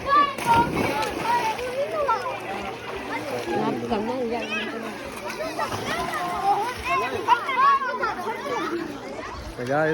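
Children splash in a swimming pool amid constant lively chatter and kids' voices, with water slaps and splatters mixed under the talk throughout.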